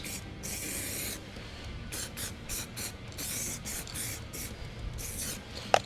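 A PPG aerosol spray paint can hisses in repeated short and long bursts as small car parts are sprayed, close up with no talking.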